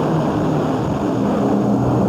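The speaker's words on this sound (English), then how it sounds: "17 men, 17 motorcycles shaking the ground at 130 miles an hour." Seventeen dirt track racing motorcycles roar past at speed at the Springfield Mile, a continuous loud droning engine noise with no voices.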